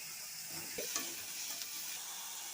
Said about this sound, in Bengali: মাছ তেলে ভেজে নিচ্ছি একটু হালকা করে